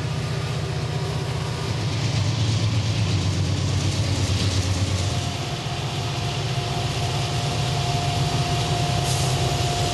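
Norfolk Southern SD-40E helper locomotives on the Pittsburgh Line between Altoona and Cresson, a steady low diesel engine drone with train rumble that holds loud and continuous throughout.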